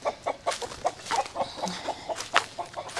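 Free-range chickens, including an olive egger hen and a rooster, cluck in short, rhythmic bursts close by. The clucks come in a quick, uneven series at moderate volume with little else around them.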